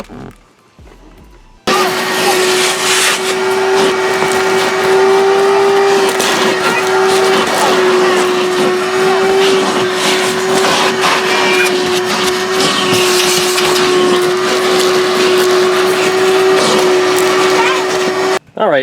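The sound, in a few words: vacuum cleaner vacuuming out a car interior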